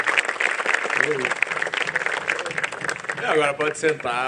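A church youth group at Tabernáculo da Fé in Anápolis is applauded by the congregation, a steady wash of clapping running beneath a voice speaking over it.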